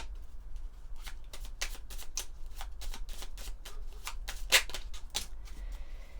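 A close, dry riffle of angel oracle cards being shuffled, with a quick train of papery flicks and slaps at an uneven rhythm and no talking.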